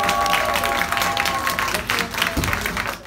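Audience applause fills the hall at a band competition awards announcement, steady clapping and crowd noise throughout, with a brief swell near the end and faint voices mixed in.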